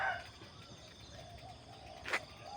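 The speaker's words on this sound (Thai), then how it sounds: "ฟังเสียงนกเสียงไก่" Countryside birds call faintly at dawn in a rural Thai village, with a brief, sharper bird or rooster cry standing out near the end over quiet background ambience.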